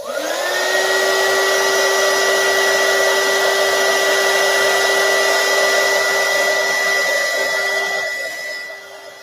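Electric heat tool blowing hot air to set a craft flower, a loud steady whirring hiss with a tonal whine that runs continuously and fades slightly at the end, alone without talk.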